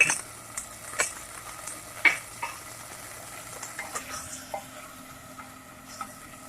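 Ground ginger frying in a pot for chicken achari, a soft continuous sizzle with occasional scraping clicks of stirring, close but fairly quiet, no talking.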